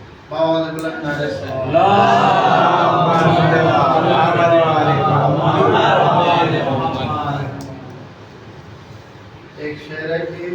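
Worshippers at a mehfil for the birth of Imam Hussain in Gopipura, Surat, raise loud unison salawat chants that swell and hold for several seconds. The chanting fades into quieter voices and scattered sounds at the close.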